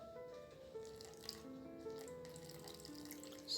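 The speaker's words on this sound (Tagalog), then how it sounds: "lagyan natin ng tubig, paunti-unti lang" Water is poured slowly and in small amounts into okoy batter for Filipino fritters, giving a faint, quiet trickle with soft splashes.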